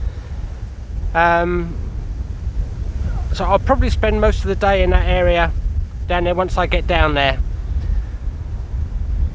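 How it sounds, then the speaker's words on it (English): Strong wind buffets the microphone outdoors in a field, giving a constant rumbling roar under a man's intermittent speech. "It is very windy at the moment,"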